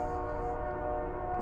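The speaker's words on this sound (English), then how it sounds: "there's a train, sorry." A train passes near a spring woodland, heard as a steady low rumble with a sustained tonal hum, moderately distant and unbroken throughout.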